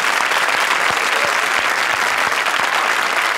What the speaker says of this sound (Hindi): जोरदार तालियां हमारी दोनों